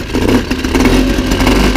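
A 1977 Motobécane M7 moped engine fires up and runs loudly and steadily close by, with a continuous buzzing drone and no talking.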